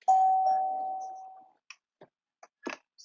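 A single chiming electronic phone ringtone, like a doorbell, rings out and slowly fades over about a second and a half, followed by a few soft, scattered clicks.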